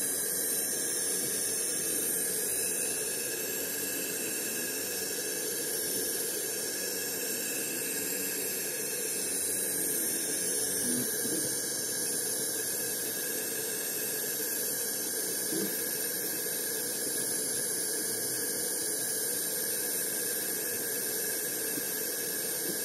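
A MinuteMan 3D printer prints a Benchy test boat, giving a steady loud whirring hiss of fans and motors with rhythmic pulsing movement noise throughout, and no talk.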